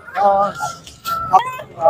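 Poultry sold for meat at a rural weekly market, loud nearby honking squawks in short bursts with a voice briefly underneath.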